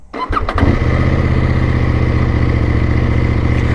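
A CFmoto 800NK motorcycle engine catches with a few quick bursts and then settles into a loud, steady idle close by, running evenly with no other sounds.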